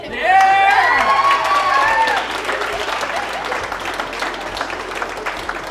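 An audience of about fifty people at a youth mentorship program graduation gives a round of applause for the kids, loud at first with some shouts, then thinning into lighter clapping.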